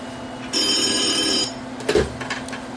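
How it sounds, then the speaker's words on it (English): An old-fashioned telephone bell rings steadily for about a second, loud and close, in a 1938 film scene, then stops as a brief thump or handling noise follows. "the phone's ringing"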